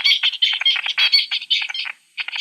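Songbird song from a played laboratory recording, a rapid run of chirps and warbled notes in quick bursts, with a short pause near the end before the singing resumes.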